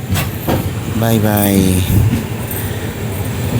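Kolkata Radhikapur Express pulling out of Katwa Junction at night, a steady rumbling run with a brief tonal horn-like blast midway and a voice speaking briefly over the train noise.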